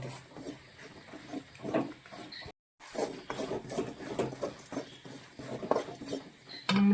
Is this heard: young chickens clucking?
no